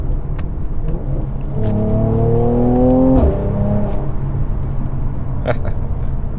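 Mercedes C43 AMG engine pulling hard while driving, rising in pitch as it revs up, then dropping sharply on a gear change and settling into a steady drone, loud and close with no talking.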